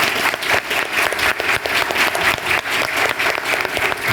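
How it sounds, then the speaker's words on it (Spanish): Sustained audience applause fills the hall at the close of a conference panel on AI and personalized medicine, dense and steady clapping throughout with no voices over it. "Un fuerte aplauso nuevamente para los expositores que nos han acompañado"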